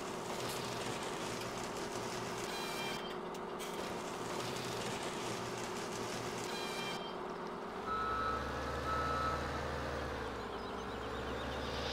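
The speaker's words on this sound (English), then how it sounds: "it's harder to drive backwards than you might think" A farm vehicle reversing in Farming Simulator 17, its repeated steady reversing beeps sounding over a constant engine drone, with the engine note shifting partway through.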